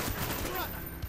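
Rapid gunfire in the video game Call of Duty: Black Ops, a dense continuous burst of automatic shots lasting about a second, fairly loud and busy.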